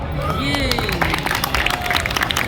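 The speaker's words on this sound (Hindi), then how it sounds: "बहुत शुक्रिया आपकी तालियों का" An audience applauds a magician at the Bijnor Mahotsav 2024 festival: dense, continuous clapping mixed with crowd hubbub and a voice over a loudspeaker, holding steady from start to finish.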